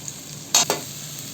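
Two eggs are poured into a hot pan for chicken fried rice, bringing two quick, close bursts of hissing sizzle, one sharp and the next smaller, over a quiet background.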